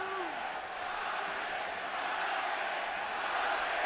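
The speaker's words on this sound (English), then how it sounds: "And now the crowd begins to chant for Pacquiao." A boxing arena crowd chants and roars for Pacquiao versus Marquez, a dense continuous wall of voices, loud and steady throughout.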